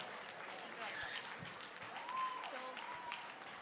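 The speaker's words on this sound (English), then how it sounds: "Please welcome the girls with a round of applause." An audience at a Republic Day celebration applauds as a group of girl dancers is welcomed onto the stage, a steady wash of clapping from a crowd at moderate distance, with a few faint voices mixed in.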